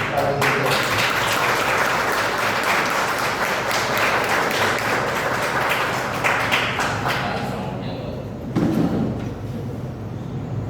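Applause from the audience at an extraordinary meeting of a municipal council, dense clapping filling the room for about eight seconds before thinning, then a short final burst.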